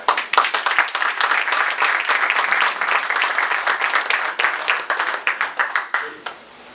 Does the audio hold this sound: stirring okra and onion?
no